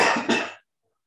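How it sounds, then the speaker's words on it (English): A single short cough comes in two quick bursts, close and fairly loud, then cuts off into silence. "Well, cough."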